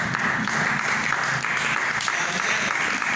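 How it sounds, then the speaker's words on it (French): A church congregation applauds during a French-language sermon, a steady, full wash of many hands clapping together, loud and continuous throughout. "Applaudissons notre Dieu."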